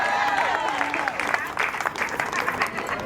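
Applause from guests at a Gabonese customary wedding, a steady wash of clapping held at an even level for a few seconds, with voices mixed in among the crowd.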